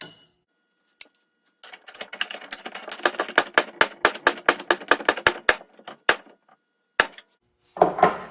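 A wrench ratchets a lock nut tight on a John Deere Power Integral sleeve hitch: a rapid, even run of crisp metallic clicks, close and fairly loud, followed by a few scattered clinks and a final louder clatter.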